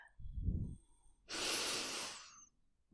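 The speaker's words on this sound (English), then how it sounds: "Take another deep breath." A deep meditative breath: an audible inhale through the nose swelling into a long, close, airy rush of breath that fades away, quiet and unaccompanied.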